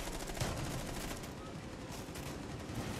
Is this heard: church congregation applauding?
no